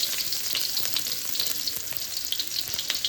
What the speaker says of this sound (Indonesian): sekarang waktunya kita mau tumis bumbunya dulu. Oke, sekarang kita masukkan jahe.